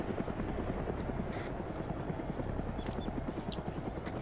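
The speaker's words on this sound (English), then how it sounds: "Watch out for that helicopter." A helicopter flies over a battlefield in a video game, its rotor chopping in a steady fast rhythm that stays loud and fairly close throughout, with rumbling noise around it and no speech.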